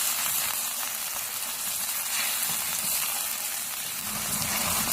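Boneless chicken pieces frying with garlic in a hot pan for a chicken handi, giving a steady, close, continuous sizzle with soft crackle throughout and no talking.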